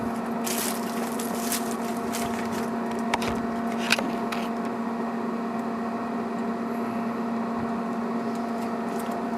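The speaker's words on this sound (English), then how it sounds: "turn the switch back on and let the pellets continue to go into the fire pot" A Traeger PTG portable pellet grill runs at first start-up, a low steady hum and whir from the auger feeding pellets into the fire pot, with faint clicks and a couple of soft knocks, close and without talk.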